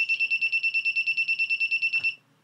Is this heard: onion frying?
no